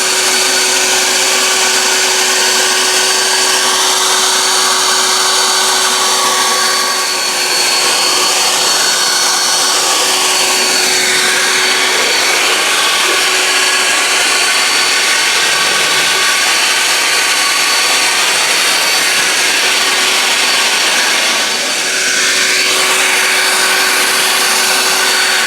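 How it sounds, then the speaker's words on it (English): A high-pressure air blower dries water off a freshly ceramic-coated car (Gtechniq CSL and EXOv4), its steady loud whooshing roar running continuously and close, with slight shifts in pitch as the nozzle moves over the roof and hood. "I could just blow it off like this and not have to rub on the paint"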